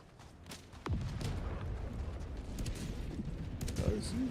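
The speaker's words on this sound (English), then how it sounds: "Calling down a sentry. That thing's shooting already?" An automated sentry turret in Helldivers 2 fires steady rapid bursts with booming impacts, moderately distant, beneath a constant layer of battle noise while a player talks.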